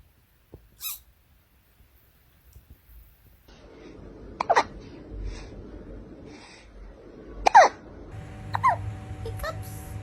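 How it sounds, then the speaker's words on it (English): A cat hiccups a few times, with short sharp faint hics spaced a couple of seconds apart over low room noise. "Do you have the hiccups?"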